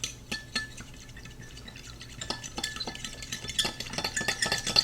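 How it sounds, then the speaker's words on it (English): Fork whisking a slurry of cornstarch and water in a small dish, a quick run of light scraping clinks that grows busier toward the end, close and alone. "I'm just gonna blend this together with a fork."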